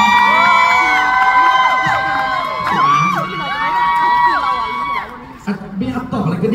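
At a Boys' Love and Girls' Love series talk session, an audience bursts into loud shouting and cheering with high whoops that fade after several seconds into scattered voices.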